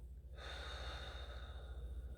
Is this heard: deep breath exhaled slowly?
yes